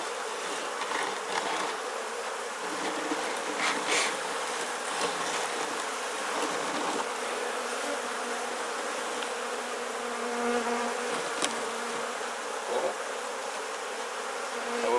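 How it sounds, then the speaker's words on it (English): Honey bees buzz steadily in a dense, close swarm drone during a Langstroth beehive inspection, with a few louder passes of individual bees near the listener and no talking. "That'll knock the bees off that lip."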